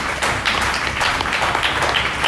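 Crowd at a live baseball talk event clapping in a steady burst of applause, dense and fairly loud throughout with no voices standing out.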